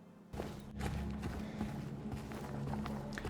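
Footsteps from the Silent Hill 2 remake: a character walking along a foggy road, with soft repeated steps over a low, steady ambient drone, fairly close and with no talking.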